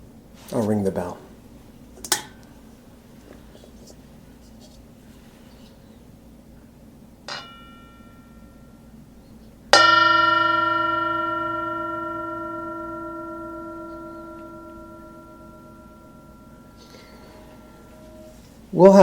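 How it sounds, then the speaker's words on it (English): A single bell struck once during a Sunday sangha church service, ringing out clearly and decaying slowly over several seconds, with a few faint knocks before it and no talk over the tone. "I'll ring the bell."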